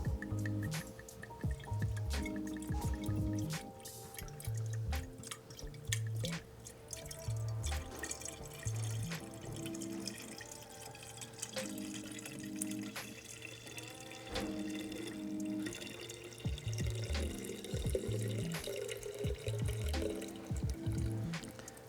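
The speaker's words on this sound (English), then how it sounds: "At this point, we've finished decanting the wine." Wine poured gently from a bottle into a decanter: a faint, steady trickle and splash of liquid that runs the whole way through, with a soft repeating low hum underneath.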